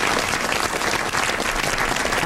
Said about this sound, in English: I didn't really want you to clap for him.